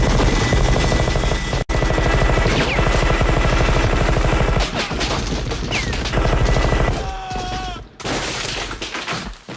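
A minigun fires in a movie action scene, a loud continuous rapid-fire roar with clattering shots and scattered impacts, briefly cut off near two seconds and again near eight, with no talk.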